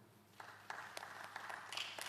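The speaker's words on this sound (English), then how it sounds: "We clap for you." Scattered clapping from a symposium audience in a hall, faint and distant, a few sharp claps standing out over a low steady hum.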